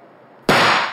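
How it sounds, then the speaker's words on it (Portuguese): A single gunshot from a nearby favela cracks out suddenly and loudly after a quiet moment, its sharp blast ringing and echoing briefly as it fades. "Esse tiro é da favela aqui do lado."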